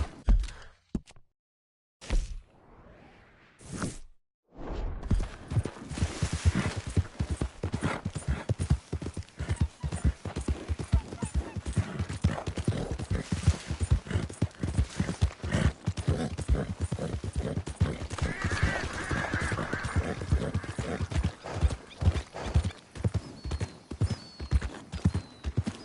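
Video game horse galloping, rapid loud clip-clop hoofbeats in a driving rhythm that start after a few seconds of near silence and continue steadily, with a faint whinny partway through.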